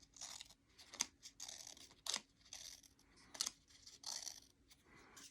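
Scissors snipping through paper to cut sculpted shapes, a steady run of close, crisp crunching cuts with short pauses and sharp clicks of the blades.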